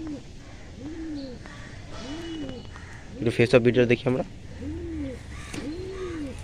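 Pigeons at a loft coo in repeated soft, rolling calls at a steady pace, close by. Someone talks briefly in the middle, and the cooing carries on around his voice.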